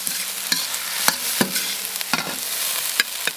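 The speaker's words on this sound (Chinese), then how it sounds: "把饭炒一下" Rice being stir-fried with chili in a wok without oil, a steady close sizzle broken by sharp scraping clicks of the spatula against the metal at irregular intervals, with no voices.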